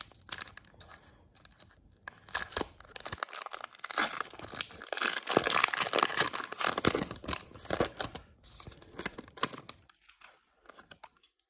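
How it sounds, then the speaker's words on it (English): Foil of a Pokemon Scarlet and Violet booster pack being torn open up close, a run of crinkly ripping and crunching bursts with brief pauses, no talking. "I'm going to get into this first pack."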